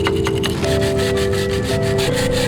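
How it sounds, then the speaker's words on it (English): A screwdriver scraping caked gunk off a motorcycle front sprocket, giving a steady close gritty rasping with a faint whine running underneath, with no talking. "sometimes what you really need is just a screwdriver to scrape the gunk off"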